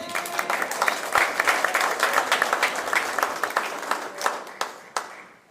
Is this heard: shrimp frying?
no